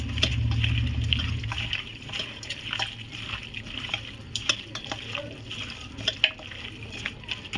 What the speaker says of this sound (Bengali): এবারে মাংসটা ভালো করে মাখিয়ে নেব